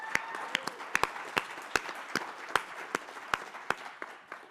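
An audience claps at a business talk, a thin scattered round of separate handclaps heard as sharp irregular slaps over a soft room background that slowly thins out.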